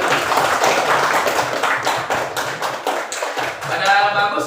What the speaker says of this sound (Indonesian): berikan tepuk tangan buat Anda sekalian